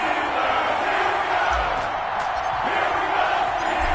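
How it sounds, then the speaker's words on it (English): Stadium crowd in an NFL video game match between the Cincinnati Bengals and Pittsburgh Steelers, a steady dense roar of cheering and whooping that fills the whole stretch, loud and continuous. "This crowd is ready as their guys get set to match up between the Cincinnati Bengals"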